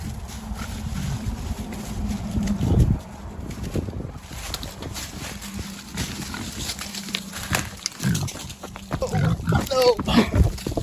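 Pigs grunt and oink intermittently as they are herded along on a farm, with wind buffeting the microphone and a person talking and calling to them throughout.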